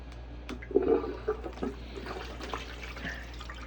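Water from a hose runs into a tub through a gold sluice, a continuous close trickling and splashing flow with small irregular bursts, no voices over it.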